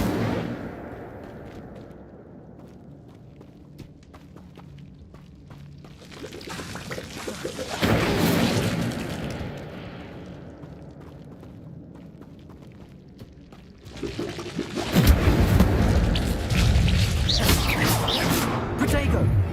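Incendio fire spells cast in the Hogwarts Legacy video game, two loud whooshing flame bursts several seconds apart rising from a quieter stretch of game sound, with speech heard at times.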